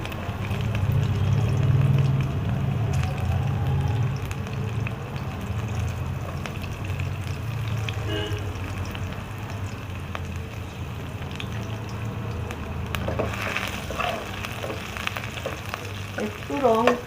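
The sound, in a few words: onion, garlic, ginger and chilli frying in hot oil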